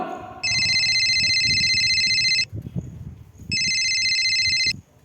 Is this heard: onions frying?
no